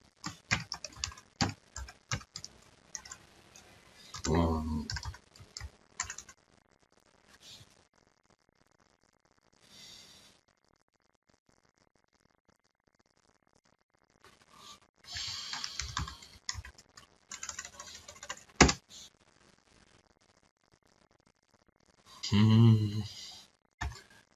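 Commands are typed on a computer keyboard in scattered bursts of clicking keystrokes, with long quiet gaps between runs and a few louder isolated key taps, close and moderately loud.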